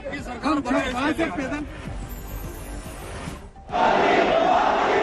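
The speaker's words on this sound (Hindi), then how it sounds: "उन्हें देखते ही भीड़ ने लगाए मोदी मोदी के नारे" At the Ramdevra fair in Jaisalmer, a crowd chants in loud rhythmic bursts, then a broad roar of crowd noise swells and holds, with voices mixed through it.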